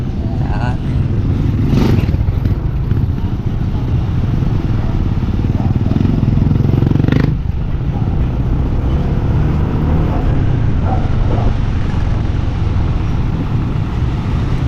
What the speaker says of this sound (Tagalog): tricycle papunta ng Pier 15